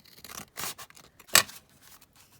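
Scissors trim the edge of a handmade Christmas card made from junk journal paper, giving a couple of short, close snips among soft paper rustles.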